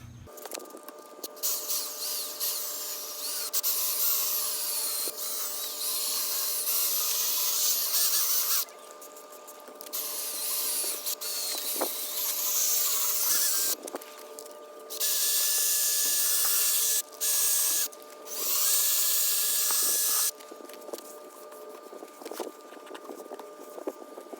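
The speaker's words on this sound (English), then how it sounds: "I have my sandpaper disc on my drill, and I have to lightly spray it with water" A steady high whine of a power drill spinning a water-sprayed sandpaper disc on a fogged car headlight, running continuously with brief pauses and a gritty, hissing edge throughout.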